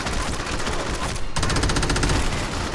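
Rapid automatic gunfire in the video game Crackdown, a dense, loud stream of shots with a brief gap before firing resumes, with no talking.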